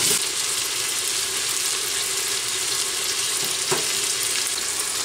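Mussels, tomatoes and scallions fry in a pan with a dense, steady sizzling hiss that stays loud and close throughout, broken only by a faint clink near the end, with no voices.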